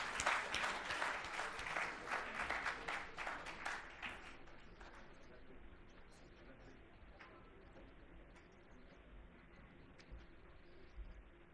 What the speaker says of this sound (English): May I request a round of applause for the dignitaries?